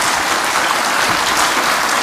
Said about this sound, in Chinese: 我们是不是再次以热烈掌声谢谢两位